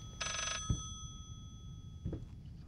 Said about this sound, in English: I can hear the phone ringing again